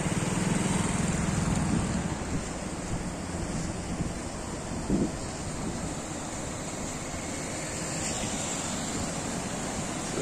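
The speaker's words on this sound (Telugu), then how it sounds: "చూసారా వాటర్ ఎలా వస్తుందో ఇక్కడ." Floodwater rushing across a road, a dense continuous roar with gusts of wind buffeting the microphone, close and steady with no voices.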